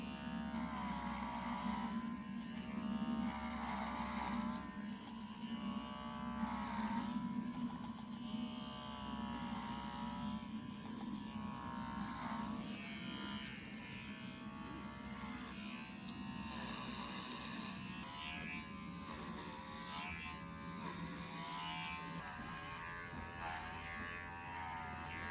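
Electric clippers run steadily on a horse's coat being clipped to clear severe rain rot, a continuous buzzing hum with a faint low drone underneath, moderately quiet and unbroken for the whole stretch with no talking.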